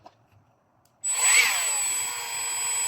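A small motor in a MACE PLUS MT-MG8V suddenly whirs up to a loud, high-pitched whine at high output after a quiet moment, then holds steady close by.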